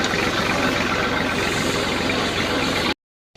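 A tractor engine idles nearby with a steady, loud low chugging that runs evenly for about three seconds before cutting off abruptly.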